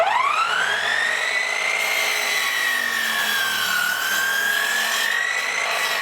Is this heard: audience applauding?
no